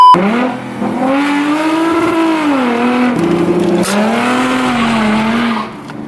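Lexus revving hard on new wheels while doing burnouts with an open differential, a loud continuous engine roar with rising and falling pitch and tire squeal, sustained for about six seconds without talk.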